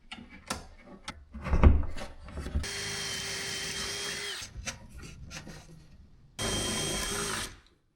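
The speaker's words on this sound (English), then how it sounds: "So now we're going to go ahead and drill this rear corner." Power drill boring into the rear corner of a wooden drawer in a DIY overlanding drawer system, two loud steady whirring runs separated by pauses, with handling knocks and rubbing before and between.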